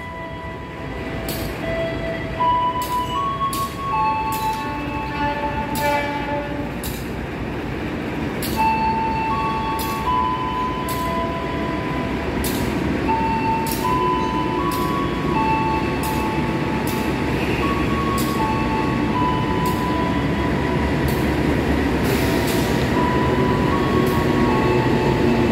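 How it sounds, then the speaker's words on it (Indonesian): The Taksaka train rolls into a station on track 2 steadily with a continuous rumble and rattle, rhythmic clacks from the wheels over rail joints, and high tonal squeals rising above it. "akan segera masuk nih di jalur 2 kereta api Taksaka"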